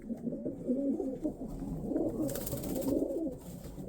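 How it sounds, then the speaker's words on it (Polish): Pigeons coo continuously in a pigeon loft, low, throaty rolling calls, several birds overlapping nearby, with faint rustling in the background. "U mnie gołębie są łaskawe"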